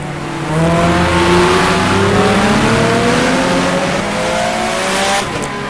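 Race car engine in the rFactor racing game, a VLN 2005 endurance series car, loudly revving and dropping through gears in repeated rising and falling pitch sweeps, close and alone.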